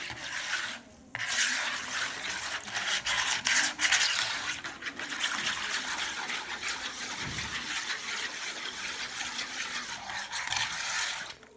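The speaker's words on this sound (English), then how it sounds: "you want to mix all of the juices together, the juice and the Kool-Aid all together" Juice and Kool-Aid are stirred continuously in a container, a steady swishing and scraping hiss that runs on without pause, close up.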